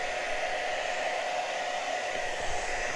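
Close, continuous whir of a hair dryer drying paint, running at full power, steady and unbroken throughout.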